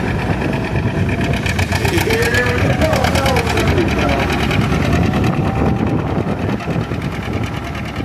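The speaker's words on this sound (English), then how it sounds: "Again, this tractor is 1952." A 1952 antique tractor, loaded with fender and wheel weights, runs its engine hard in a tractor pull, a loud, steady, rapid mechanical clatter that fills the whole stretch while someone talks over it.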